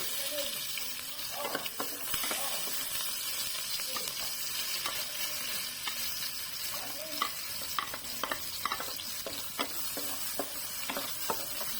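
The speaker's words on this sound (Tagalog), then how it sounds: "Pagkainit naman ng mantika ay magigisa na ako ng sibuyas" Onion and garlic sauté in a good amount of hot olive oil for cod dish, a low steady sizzle with frequent clinking, scraping stirs of a utensil in the pan.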